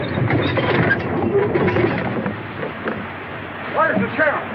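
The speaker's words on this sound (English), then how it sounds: "Was that train making enough noise?" A passing train rumbles and rattles steadily beneath overlapping voices, with a raised, excited shout rising near the end.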